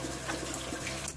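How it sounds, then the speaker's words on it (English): Cold tap water runs steadily into a pan holding eggs, a soft continuous splashing hiss heard briefly and alone. "We're just gonna let the cold water run through until they cool off"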